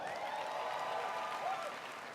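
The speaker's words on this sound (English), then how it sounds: "Give yourselves a round of applause." Audience applause filling a hall at a business event in New Orleans, steady dense clapping throughout with a faint crowd murmur underneath, fairly distant and even.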